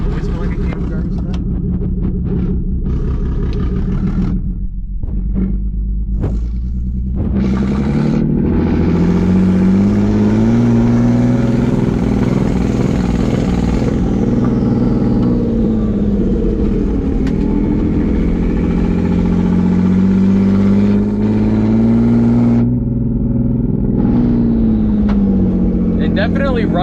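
Turbocharged BMW E36 engine droning steadily with rising and falling pitch as it pulls through the revs, loud and continuous, with people talking over it.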